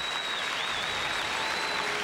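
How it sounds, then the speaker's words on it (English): Steady applause rings out in a curling arena for curler Sandra Schmirler and her team at the 1998 Scotties, dense and even for two seconds under a faint high electronic tone. "the applause for Sandra Schmirler and her team"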